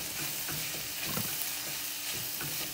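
Tomato paste being stirred into green beans sabji in a pan gives a continuous soft sizzle with light scraping stir strokes, steady and moderately close, with no voices.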